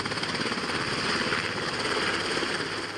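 Military helicopter over a calm sea during a US Marines drill, a loud, continuous rotor roar with rhythmic chopping, close and dominant with no voices.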